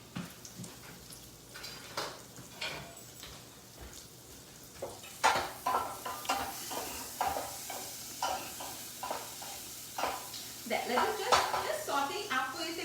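Something sautés in a pan with a low sizzle and repeated clinks and scrapes of a utensil against the pan, close and fairly quiet, while someone talks over it.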